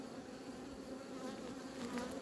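Honey bees buzzing densely around their hives, a continuous close swarm hum with individual bees droning past, no voices.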